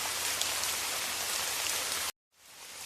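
Heavy, steady rain pours down on a stormy night at a train platform, a dense hiss for about two seconds before cutting out briefly and fading back in.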